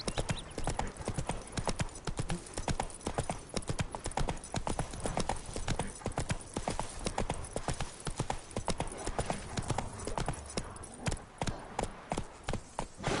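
A horse gallops in The Witcher 3 with rapid, continuous hoofbeats close by. The clip-clop rhythm is steady and unbroken for the whole stretch, with no talking.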